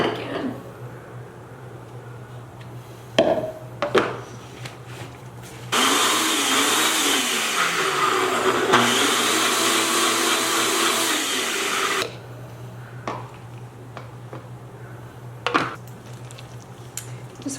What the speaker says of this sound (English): I think I'm maybe gonna add a little bit more of my almond milk to this blender.